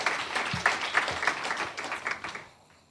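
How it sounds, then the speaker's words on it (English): Audience applause at a climate keynote event in New York, a round of many hands clapping with distinct claps standing out, steady for a couple of seconds before fading out at the end. "Please give them a round of applause"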